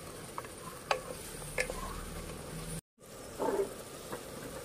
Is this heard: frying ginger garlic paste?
yes